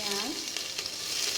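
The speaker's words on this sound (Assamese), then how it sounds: "তেল গৰম হৈ গ'লে শুকান জলকীয়া, পাঁচফোৰণ আৰু কেইটামান জিৰা দি পিনি ফুটাই লৈছোঁ।" Dried red chillies, panch phoron and a few cumin seeds crackle and sizzle in hot oil, a brief, close spitting hiss with a couple of sharp pops.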